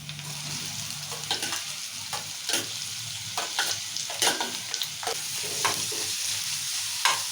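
Onions tossed into hot oil for a Telugu amaranth leaf and tomato curry crackle with a steady sizzle, while a spoon scrapes and stirs the pan in repeated sharp strokes, close and alone without speech.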